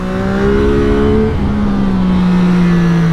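A CFMOTO 675 NK motorcycle engine droning loudly under throttle, a strong steady roar with engine tones that rise and fall as the revs shift, close and continuous with no talk.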